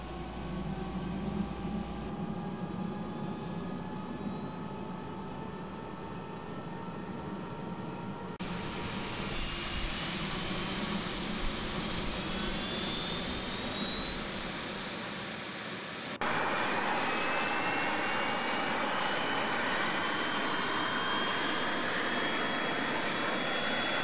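F-14 Tomcat jet engines spooling up in a flight video game, a steady rising turbine whine with layered tones that grows louder in distinct stages, no voices.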